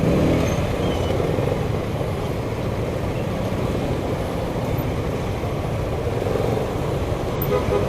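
Busy road traffic with cars and trucks rumbles steadily nearby, a dense continuous wash of engine and tyre noise with occasional horn toots mixed in.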